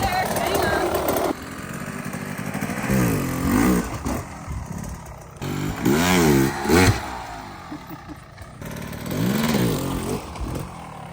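Motorcycle engine revving in repeated bursts during front wheel lift practice, rising and falling pitch with several blips, mixed with voices talking over it.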